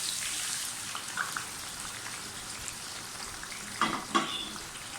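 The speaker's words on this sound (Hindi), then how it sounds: "ऑयल अच्छी तरह से गर्म हो गया, प्याज डालना शुरू करें।" Onions dropped into well-heated oil fry with a steady broadband sizzle that crackles throughout, with a couple of louder spitting bursts near the end and no talking.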